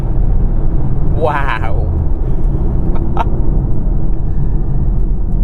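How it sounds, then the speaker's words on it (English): A BMW i4 M50 electric car drives and accelerates, a steady low road rumble and tire roar heard from inside the cabin, with a person briefly exclaiming over it. "This is by far the most engaging and fastest electric car that I've driven in a while."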